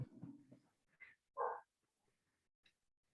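A puppy gives a couple of faint, short yips at a distance, separated by quiet gaps, with some indistinct voices at the start.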